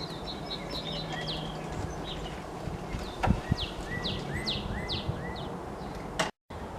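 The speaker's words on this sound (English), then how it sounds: "listen to the birds. Those birds are telling you spring is in the air." Springtime birdsong outdoors, several birds trilling and chirping in repeated short phrases at a moderate distance, over steady background noise with a few soft thumps and rustles.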